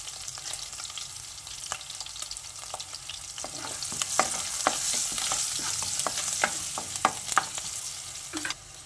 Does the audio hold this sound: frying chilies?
yes